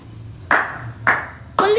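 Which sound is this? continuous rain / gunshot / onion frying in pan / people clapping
people clapping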